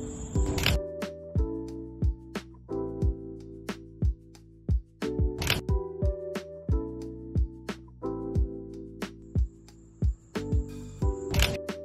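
Shutter of a 35mm film camera firing repeatedly at night while photographing a car under a streetlight, a series of sharp close mechanical clicks at irregular intervals over a faint background, with no talk.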